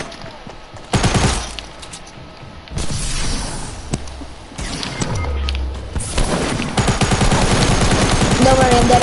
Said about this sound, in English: I'm taking so much fire